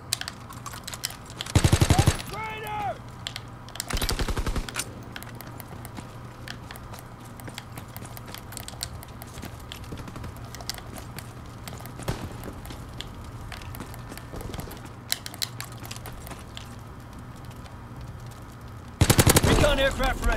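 A Type 100 submachine gun fires in short rapid bursts in a World War II video game. Loud automatic volleys come near the start, around four seconds and again at the end, over a continuous game background with quieter sporadic shots between.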